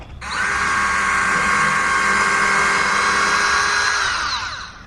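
A cordless power drill whines at high, steady speed while pre-drilling wood for a garden window box, a loud close buzz that holds for about four seconds before winding down.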